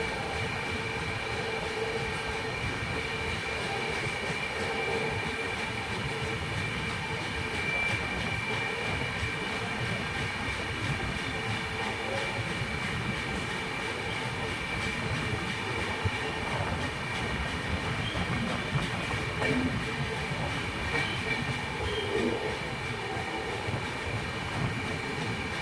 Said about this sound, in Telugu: మన ట్రైన్ ఆల్మోస్ట్ 20 minutes బిఫోర్గా అయితే ఉంది. సో ఆల్మోస్ట్ తిరుత్తని దాటినప్పటి నుంచి ఇంతే స్పీడ్లో పోతుంది.